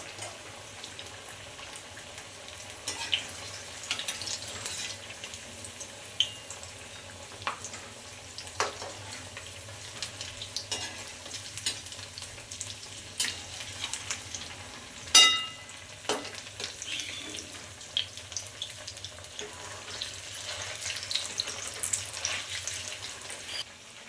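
Chopped onion, chili, ginger and garlic fry in a pan, giving a soft, fairly quiet sizzle with occasional stirring clicks and scrapes, including one sharper knock midway, heard close without speech.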